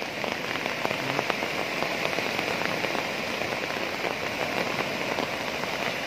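Heavy rain pours steadily during a sudden flood, a dense unbroken hiss of drops hitting surfaces with no voices.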